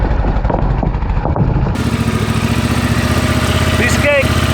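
A Honda Transalp motorcycle engine runs loud and steady as the bike rides across an inflatable sleeping pad, with a rough low rumble throughout and a sharper shift partway in.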